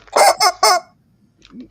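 A squeaky rubber chicken toy is squeezed three times in quick succession, giving loud, close, honking squawks, then a pause and a fainter squeak.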